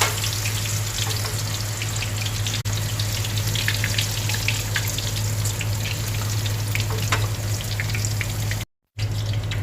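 Okoy papaya fritters fry in hot oil, a dense continuous sizzle full of close popping crackles, steady throughout apart from a brief dropout near the end.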